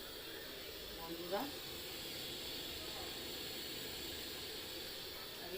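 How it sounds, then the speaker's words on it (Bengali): Milk tea boiling on a stove, a faint, steady hiss that runs throughout with a brief spoken word near the start. "এখন চা ফুটে গেছে"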